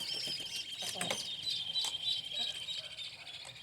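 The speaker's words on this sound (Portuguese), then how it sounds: "Olha minhas galinhas." Backyard chickens cluck and chirp nearby in short irregular bursts, moderately loud against outdoor ambience, with a faint voice in the background.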